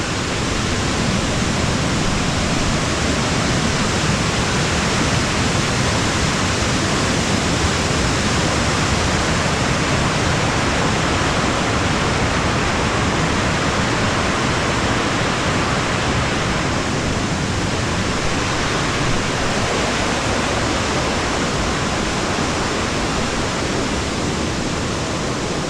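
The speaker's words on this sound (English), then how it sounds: "water wheel water taken away from the river for power purposes" River water diverted into a channel for a water wheel rushes loudly and constantly, a dense roaring wash that holds without a break and has no voices.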